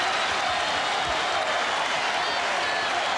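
Arena crowd at Madison Square Garden roaring and cheering for the New York Knicks during the 1999 NBA Finals, a dense, sustained wash of voices and applause held steady throughout.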